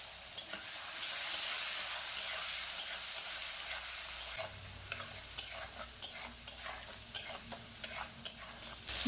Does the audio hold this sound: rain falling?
no